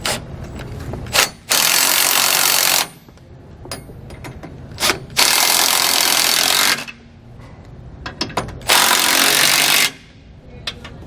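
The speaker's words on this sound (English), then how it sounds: "tighten down our nuts on our carriage bolts using a 9/16 socket" A 9/16 socket on a power tool tightens nuts on carriage bolts during a SumoSprings install on a 2014 Thor Windsport motorhome, three loud buzzing bursts of a couple of seconds each, split by clanks and quieter gaps.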